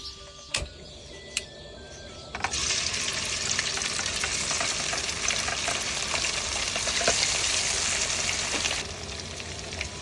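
Boiled vegetables fry in a hot pan with a steady, dense sizzle that starts abruptly after a couple of faint clicks and runs loud for about six seconds before easing off.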